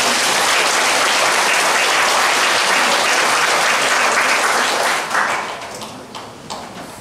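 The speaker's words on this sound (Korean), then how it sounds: "여러분 감사의 박수 보여드리겠습니다" A church congregation applauds in thanks, a dense, loud wash of clapping that holds steady for about five seconds before thinning into scattered, trailing claps.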